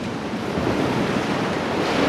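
Strong, cold winter sea waves surge and wash against the rocky coast of Ulleungdo, a broad, continuous roar of surf mixed with wind buffeting the microphone.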